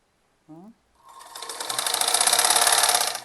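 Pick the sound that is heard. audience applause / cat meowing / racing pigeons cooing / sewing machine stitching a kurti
sewing machine stitching a kurti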